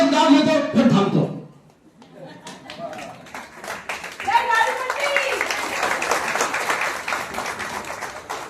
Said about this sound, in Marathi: आणि दुसरा पुरस्कार तुम्ही प्रचंड टाळ्यांचा कडकडाट कराल